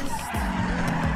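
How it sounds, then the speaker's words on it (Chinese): In the game GTA 5, the tires of a Mercedes-AMG GT63S skid under braking on the Nürburgring, giving a loud, continuous squeal over the engine note. "来加速一下，要刹车"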